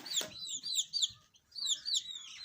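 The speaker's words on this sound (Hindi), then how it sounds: "जैसे कि आप देख रहे हैं ये देसी मुर्गे" Desi chickens in a Pakistani village setting give a string of short, high, close chirps and peeps in quick bursts, with one brief pause in the middle.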